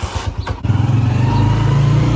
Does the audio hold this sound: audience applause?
no